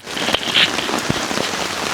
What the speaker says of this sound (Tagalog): Pakinggan nyo na lang yung ulan. Pumapatak sa tarp.